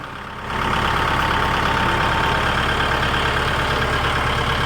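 A heavy Kubota L5018 tractor fitted with a lifting attachment revs up after a brief moment, then holds a loud, steady, rumbling drone close by.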